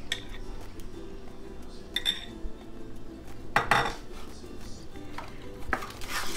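A light spoon gently mixes whipped yogurt over dahi phulkiyan in a bowl, with soft scraping and occasional clinks of metal against the dish over a steady low background hum.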